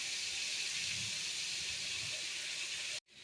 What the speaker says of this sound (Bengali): এবার এরপরে একটু আদা রসুন বাটা দিয়ে দেব। এবার ভালো ভালো করে ভেজে নেব।